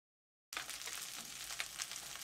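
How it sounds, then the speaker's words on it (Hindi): Cut okra frying in hot mustard oil in a kadhai, a soft continuous sizzle that starts abruptly after a brief silence and crackles on steadily, fairly quiet. "अब इसके अंदर हम सबसे पहले भिंडी को ही फ्राई करेंगे"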